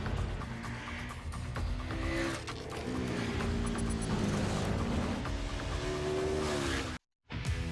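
KTM motorcycle with automated manual transmission being ridden, a sustained engine drone with rising and falling pitch as it shifts, loud and close, cutting briefly to silence near the end.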